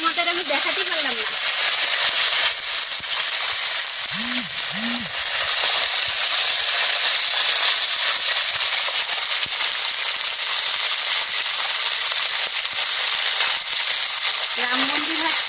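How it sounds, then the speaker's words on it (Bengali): Vegetables frying in a pan for a Bengali vegetable curry, a steady loud broadband sizzle running throughout with brief tonal sounds from nearby voices mixed in. "সবজি ভাজা বসাই দিচ্ছি"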